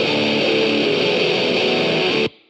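Stacked heavy shoegaze guitar layers with distortion playing together, a thick, saturated wall of sustained sound held at constant loudness, then stopping suddenly.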